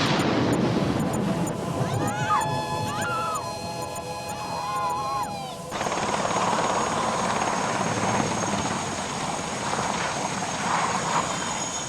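A helicopter flies with a continuous, fairly close rotor and engine roar. For the first half, whining tones ride on top of it; then it continues as a broad, steady drone.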